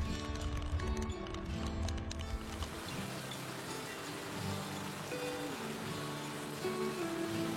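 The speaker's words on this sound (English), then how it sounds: "When you live surrounded by salt water, you begin to really start appreciating the rain." Rain patters on the deck of a sailboat, a close, dense spatter of drops with uneven tapping that stays constant throughout, while a faint tonal hum sits beneath.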